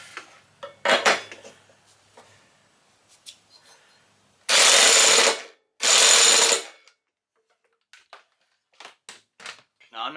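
An impact wrench works on the flywheel nut of a Briggs and Stratton push mower, firing two loud, close hammering bursts of about a second each, with clinks of tools and faint talk around them.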